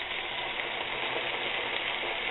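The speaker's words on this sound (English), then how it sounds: "now we are going to add the tomato sauce" Tomato sauce added to a hot frying pan in a home kitchen, a steady, even hiss of sizzling that holds at a moderate level with no voices.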